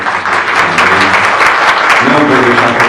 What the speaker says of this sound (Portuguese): Então eu queria uma salva de palmas aí para ela.